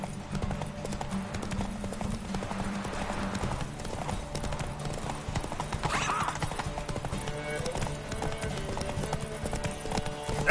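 Hooves of Roach, Geralt's horse in The Witcher video game, pound in a steady galloping clip-clop close by for the whole stretch, with a brief whinny, a shouting voice urging the horse on and a music score underneath.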